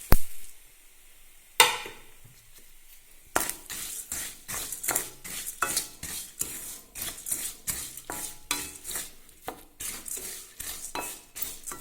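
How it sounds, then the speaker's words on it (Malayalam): Puffed rice (malar) poured into a pan over a low gas flame makes an early rattle and clatter, then repeated rustling scoops and scrapes as it is stirred in a steady rhythm. "എന്നിട്ട് ഗ്യാസ് ഒന്ന് ലോ ഫ്ലെയിമിൽ വെച്ചിട്ട് നമുക്ക് ഈ മലർ അതിലേക്ക് ചേർത്ത് കൊടുക്കാം."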